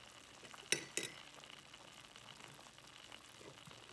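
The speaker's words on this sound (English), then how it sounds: "I'm just stirring this gravy" A fork stirs a gravy mixture in a cup with two sharp clinks against the rim near the start, then a faint, soft swishing that continues quietly against low background noise.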